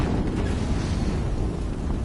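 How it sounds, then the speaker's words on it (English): Explosion in the action game Horizon Zero Dawn during a boss fight, a dense, sustained roaring blast with heavy low rumble that stays loud and unbroken throughout. "Explosion."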